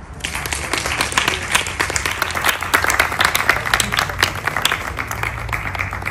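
An audience at a World Hindi Day poetry gathering claps for the poets, giving dense, steady applause that holds loud and even throughout.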